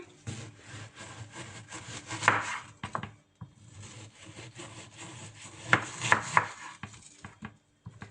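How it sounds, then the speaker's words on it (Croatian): A knife works through chicken on a board, dicing it into small cubes, in a steady series of soft cuts and scrapes, with a few sharper knocks against the wood. "piletinu režemo na sitne kockice"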